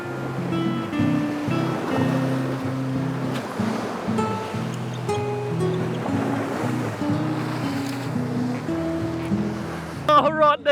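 Ocean surf surges and washes against shoreline rocks at a kingfish fishing spot, a steady loud roar with rolling swells, under intermittent talk and wind buffeting, ending with a brief clatter.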